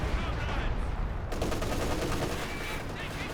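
MG34 machine gun firing in the strategy game Company of Heroes 2, a dense continuous rattle of gunfire amid other battle noise, loud and steady throughout.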